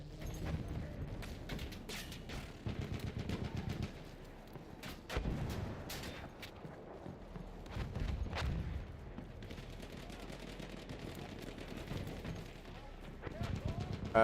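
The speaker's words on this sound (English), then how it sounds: "Look out! Machine gun!" Battlefield 1 machine gun fire sounds in rapid bursts of gunfire, broken by pauses and scattered single shots, while people talk throughout.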